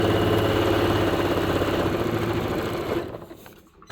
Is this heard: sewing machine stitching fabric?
yes